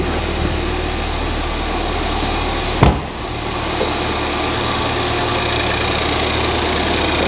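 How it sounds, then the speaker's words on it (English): A Ford Fiesta ST engine runs steadily without misfiring, a smooth low drone that holds even throughout, broken once by a brief knock or bump partway through, with no voices. "It's running right. It's not misfiring. It's definitely not misfiring."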